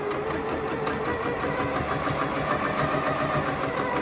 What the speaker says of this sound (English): I send that through my sewing machine first